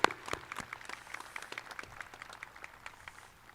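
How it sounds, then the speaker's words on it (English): High school graduation audience applause, a thin scattering of claps that starts with a sharp clap and tapers off, fairly faint and distant in a large space. "let's have a round of applause"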